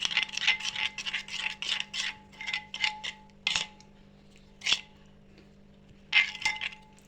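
Rice batter for chitoi pitha is stirred in a bowl after salt and baking soda go in. Quick rhythmic scraping strokes come in bursts, with a few pauses and single sharper clinks.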